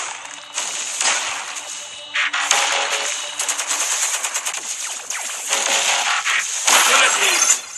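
Guns firing in the Transformers Earth Wars mobile game: rapid bursts of automatic gunfire with crackling impacts, dense and loud through most of the stretch, without talk.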